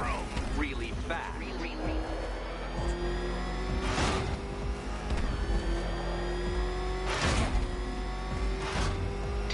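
The Batmobile in Batman Arkham Knight revs and accelerates, its engine roaring loud and close, with sharp surges around the middle and near the end as speed builds, game voices speaking over it.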